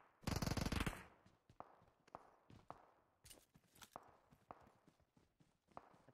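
Gunfire in the mobile battle royale game PUBG Mobile: one loud automatic burst at the start, then scattered single shots and soft thuds at irregular intervals, some near and some distant.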